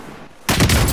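Gunfire in the video game Call of Duty: Modern Warfare erupts halfway through, a loud, dense burst of rapid shots following a quieter stretch of low background rumble, with no talk over it.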